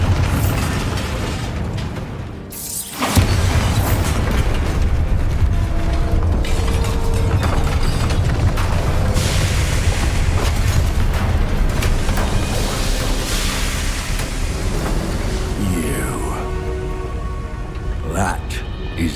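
Heavy magical explosions and crashing bursts from the Bombarda spell in the video game Hogwarts Legacy, dense and continuous, with debris rumble and rattling mechanisms filling the whole stretch.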